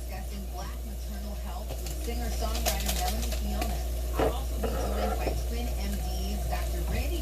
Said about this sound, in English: so I'm gonna stir these up a little bit, get that seasoning up in there